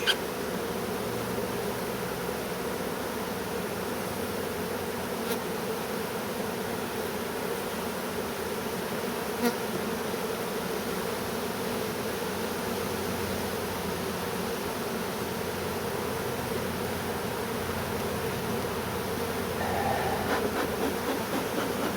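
A dense, continuous buzz of many honeybees swarming close by at an apiary hive, steady and humming, with no talking.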